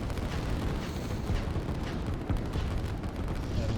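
Rumbling airstrike explosions in the real-time strategy game Line War, a dense continuous barrage of low booms without pauses, fairly loud throughout.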